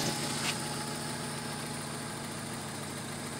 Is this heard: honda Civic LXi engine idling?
yes